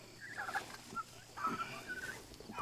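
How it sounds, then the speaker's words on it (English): Pasture-raised turkeys gobbling and clucking in several bursts of warbling calls, fairly close, over a low background hum with no speech. "Look out, turkeys."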